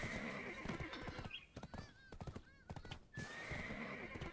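Horse hooves clip-clop steadily in Black Desert Online, punctuated by several short whinnies and neighs near the middle, all close and fairly loud over a busy game soundscape.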